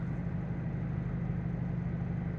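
A steady, low engine drone hums throughout, a 2022 Hyundai Elantra N running in sport driving mode with a deep, even exhaust note and no breaks.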